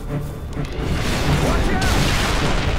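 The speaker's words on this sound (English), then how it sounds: "Wraith is dropping bombs on us." Wraith tank bombs exploding in Halo 3, heard as a dense run of deep, rumbling booms and crashes at steady loudness, with battle noise and some voices mixed in.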